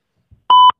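A phone line sounds one short, loud electronic beep while a call connects to leave a voicemail, preceded by a faint soft bump.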